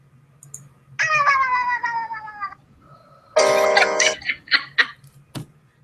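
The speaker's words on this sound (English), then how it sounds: "That was a cat. I know that noise." A cat meow sound effect plays as a phone ringtone: two loud, drawn-out meows, the second harsher and more strained, followed by a few short chirpy squeaks over a low steady hum.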